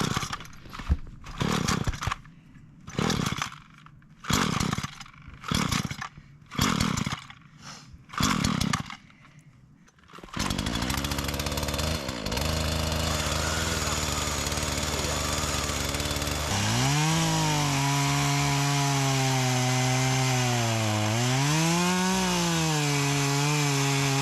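A new Husqvarna chainsaw cutting trees for firewood in remote bush: first a series of short revving bursts separated by pauses, then a long sustained loud whine whose pitch rises and falls as it bites into the wood.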